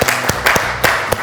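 Loud, close clapping from a cooking competition studio audience, sharp individual claps landing in an uneven rhythm over a dense, continuous wash of applause.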